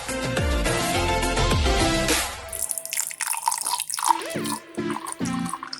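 Sangria with fresh fruit in it is poured into a glass in a short, close series of splashing, dripping gurgles, coming in after a stretch of background music fades out.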